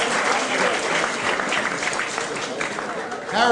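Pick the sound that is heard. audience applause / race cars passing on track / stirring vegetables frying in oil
audience applause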